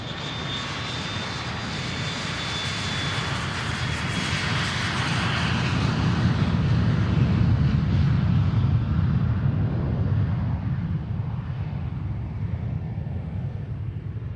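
A private jet takes off from Boeing Field in Seattle, a steady loud engine roar that swells and then slowly fades with distance, with no talk over it.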